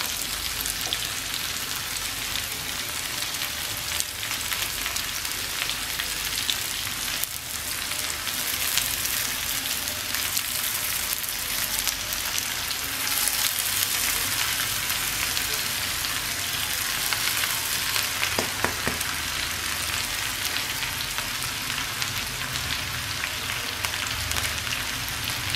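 Boiled noodles are stir-fried with vegetables in a pan on medium heat, sizzling in a continuous close, bright hiss with occasional scraping stirs, steady throughout with no talking.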